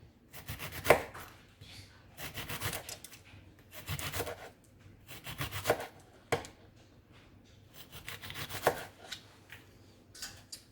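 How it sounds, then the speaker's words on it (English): Jalapenos are sliced finely with a knife on a cutting board, brisk bursts of rapid chopping taps repeating in several runs with short pauses, close and clear. "we're gonna chop up our jalapenos. We're gonna slice them really fine"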